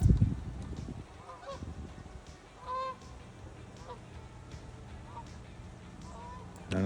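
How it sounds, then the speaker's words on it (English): Geese honk in scattered calls as they fly over a steady outdoor rumble, with a louder burst of honking midway and a few fainter calls from a distance. "There's the geese."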